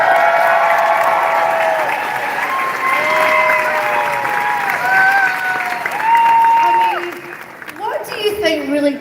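A large convention crowd cheering and applauding a film cast panel at MegaCon, steady dense clapping with whoops and voices ringing above it, dying down near the end as talking takes over.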